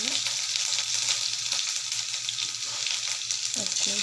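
Garlic paste frying in hot oil with mustard seeds and cumin for a vegetable saagu, a steady close broadband sizzle with a few soft stirring clinks near the end.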